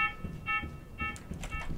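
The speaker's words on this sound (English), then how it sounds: "That beeping's annoying!" A beeping alarm from the bunker in the Last Day on Earth: Survival video game, sounding in repeated bursts of bright tones about every half second over a low background rumble.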